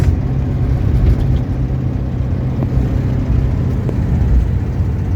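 A 1971 VW Beetle 1300 engine drones steadily and close up while the car builds speed, a continuous low rumble with no talk over it.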